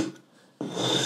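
A short rasping scrape of a sanding block on a guitar nut, pausing briefly before a louder, steady grinding stroke resumes.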